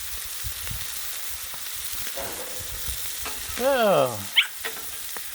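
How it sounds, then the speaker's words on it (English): Smash burgers seasoned with pepper and garlic sizzle and pop loudly on a hot griddle, a steady dense frying hiss with sharp crackles, while a voice briefly speaks near the end. "Man, it's really sizzling and popping"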